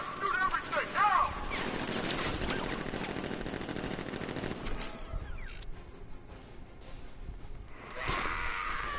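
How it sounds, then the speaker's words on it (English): Sentry guns in Batman Arkham Knight fire in dense, rapid bursts, a loud mechanical rattle of automatic gunfire mixed with shouting voices, then thinning out before a final sharp blast. "Activate sentry guns on my mark."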